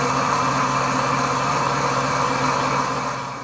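A Pampered Chef blender running at speed 3 while making nacho cheese sauce, with a loud, continuous motor whir and buzz that stays steady and then dips slightly near the end.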